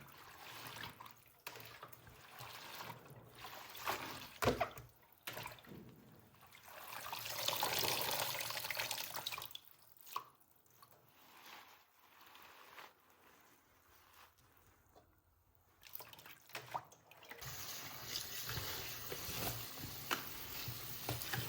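Leafy greens being washed under running water, with trickling and splashing that swells and fades over about twenty seconds, close and fairly quiet, no voices.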